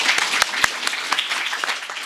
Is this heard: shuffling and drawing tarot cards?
no